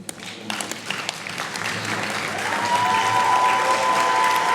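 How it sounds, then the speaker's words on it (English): A municipal gathering in Emalahleni rises for a standing ovation, dense applause building and swelling steadily over several seconds, with a sustained whistle or ringing tone entering partway through. "Let us give both Amabogobogo and Thabo Ndlovu a standing ovation as we applaud them"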